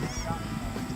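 Large domestic ducks honking on a farm beside a chicory paddock, a steady, close, busy chorus of calls filling the whole second with no talk.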